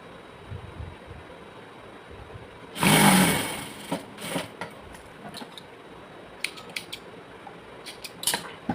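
A sewing machine stitching a palazzo pocket gives one short, loud whirring run of stitches, followed by scattered mechanical clicks and taps from the machine against a quiet room.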